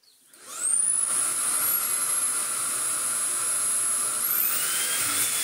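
A Shark ICZ300 DuoClean Powerfins vacuum cleaner, showing an E6 error, spins up after a short pause and runs with a loud, steady whining roar and a high motor whistle that rises in pitch near the end.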